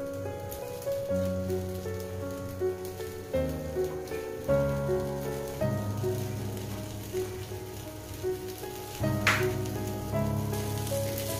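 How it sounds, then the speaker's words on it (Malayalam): Chicken thoran with grated coconut being stirred in a pan, a steady soft sizzle and scraping that carries on throughout, close and fairly quiet, with no voices. "നന്നായി ഇളക്കി കൊടുക്കുക. മസാലയൊക്കെ ചിക്കനിലേക്ക് നന്നായി പിടിക്കണം."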